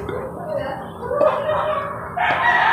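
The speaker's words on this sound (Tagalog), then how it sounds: "pakain ko sa aking mga alagang manok na sisiw" Pet chickens and chicks cluck and a rooster crows up close, several overlapping calls filling a short stretch.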